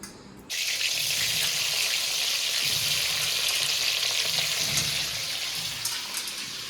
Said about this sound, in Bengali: তেলও গরম হয়ে গেছে ফুলকপিগুলো ছেড়ে দিই